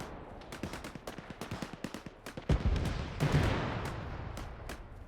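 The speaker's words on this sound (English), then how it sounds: "I hear a lot of shooting" Gunfire in the Arma 3 military game, with a rapid run of sharp single shots followed by heavier, louder bursts and a rolling echo, with no voices.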